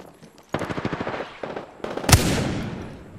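Rapid bursts of automatic gunfire in a battle royale video game, loud and close, with a choppy rhythm of repeated shots and a heavier sharp blast near the end that trails off into noise.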